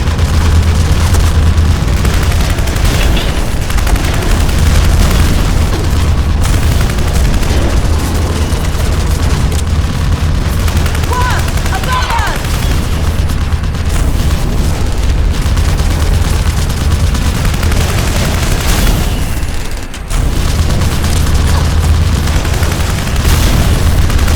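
Grenade explosions and heavy gunfire in the video game Terminator Salvation, a loud, continuous dense barrage of booms and blasts with no clear gaps.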